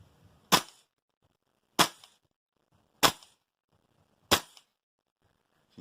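A Tokyo Marui MWS M4 gas blowback airsoft rifle with a lightweight bolt and stock buffer and buffer spring fires four sharp, loud single shots spaced evenly about 1.3 seconds apart, each a crisp crack with a short metallic tail, alone with no talk.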